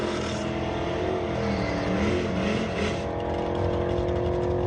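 A Fox Body Mustang drag car launches at a drag strip with a loud, rising engine roar whose pitch climbs through the run before easing off.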